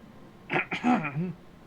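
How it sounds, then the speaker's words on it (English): A person clears their throat in two or three short, rough bursts followed by a brief voiced grunt, close and fairly quiet, alone without other talk. "it was just me clearing my throat"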